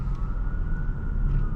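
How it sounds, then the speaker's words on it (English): A steady siren wails faintly in the distance over low rumbling traffic noise, heard from a BMW F82 M4 being driven. "I hear sirens."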